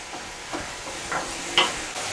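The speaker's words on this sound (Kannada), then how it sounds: "ಇದು ಗೋಲ್ಡನ್ ಬ್ರೌನ್ ಆಗೋ ತನಕ ಫ್ರೈ ಮಾಡ್ಕೊಳ್ಳಿ." Onions frying in a pan for egg bhurji while being stirred, a constant soft sizzle broken by several brief scrapes of the spoon.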